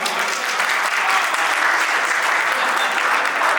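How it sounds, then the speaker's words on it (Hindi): Audience applause at a Hindi poetry recital: a dense, even wash of many hands clapping at steady loudness for the whole stretch, with a faint crowd murmur underneath. "एक बार उनके लिए भी तालियां हो जाए।"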